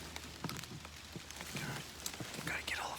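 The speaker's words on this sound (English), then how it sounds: "We got rain coming in." Rain falls outdoors at a hunting site, a soft, steady patter of drops on surfaces with scattered louder taps and faint background movement.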